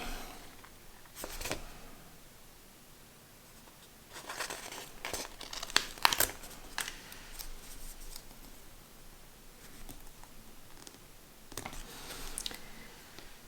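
Paper from a planner kit is torn and crinkled in short bursts near the microphone, with quiet rustling in between and no speech.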